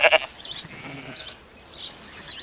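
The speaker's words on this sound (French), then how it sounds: "apprennent à communiquer avec le troupeau dans la langue des bêlements" Lambs and ewes in an outdoor farm flock bleat back and forth, with a louder nearby call at the start and fainter answering cries further off against a quiet background.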